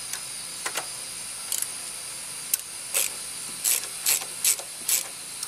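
Ratchet tightening a spark plug on a Husqvarna yard tractor: a series of short, sharp clicking bursts in uneven groups, fairly close, over a quiet background hiss with no talking.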